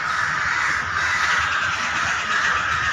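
Crows cawing steadily and fairly loud, harsh repeated calls overlapping in a continuous chorus with no speech.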